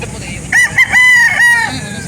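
A Sweater Kelso gamefowl rooster crows once, loud and close: a couple of short opening notes followed by a long drawn-out call lasting about a second.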